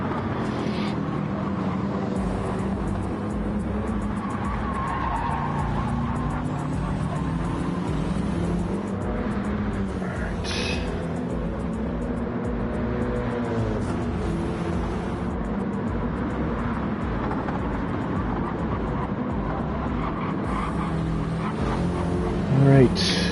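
Several racing cars battle closely in a virtual racing game, their engines droning steadily and continuously for the whole stretch beneath ongoing commentary.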